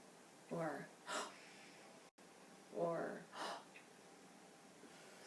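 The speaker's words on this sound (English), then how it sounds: "You're gasping, lifting your head." A vocal teacher demonstrates gasping breaths, two sharp, noisy inhalations each followed by a breathy snort-like release, close and alone in a quiet room.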